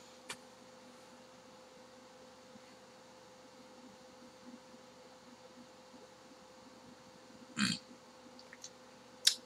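A short, throaty burp rises out of near silence near the end, followed by a smaller second burst, both brief against a faint steady room hum.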